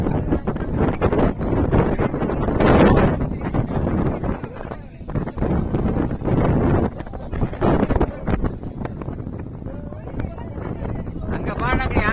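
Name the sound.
boat ride with wind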